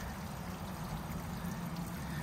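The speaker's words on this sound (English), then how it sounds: "Got some water" Water drains and trickles down beneath the Linn Cove Viaduct along the Blue Ridge Parkway, a steady, soft pouring wash heard close by with no talk.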